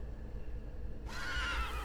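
A horse in a video game whinnies briefly, a bright rising neigh over a steady low rumble, alone with no talk.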